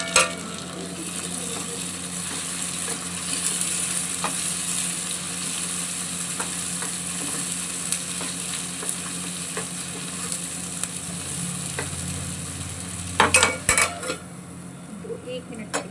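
Tomatoes fry in a pan with a steady close hiss of sizzling, while a utensil scrapes and clinks against the metal now and then, ending in a brief clatter.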